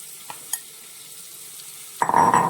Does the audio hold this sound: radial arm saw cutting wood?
no